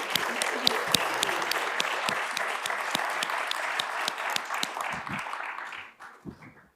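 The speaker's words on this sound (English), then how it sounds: "A round of applause, please, for." Conference audience applauding at a European security session, a continuous dense patter of many hands at moderate distance, tapering into a few scattered claps and faint movement at the end.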